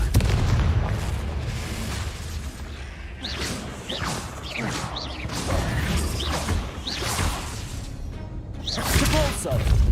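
Confringo fire-spell blasts in the Hogwarts Legacy video game, a string of whooshing bursts and crashing explosions at a moderate level, with the spell name called out between them and a spoken voice underneath.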